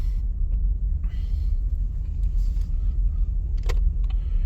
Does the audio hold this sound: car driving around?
yes